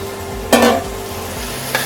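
A spoon stirs cauliflower florets coated in pepper paste around a pan, with a soft steady sizzle under two brief scraping strokes, the first louder and longer than the second.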